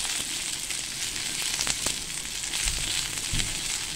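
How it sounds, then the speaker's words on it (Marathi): Chopped green chilies roasting crisp in hot oil for a spicy Satara-style urad dish, a close, continuous sizzle with scattered sharp pops and crackles. "चांगली आपल्याला ही मिरची खरपूस भाजायची आहे।"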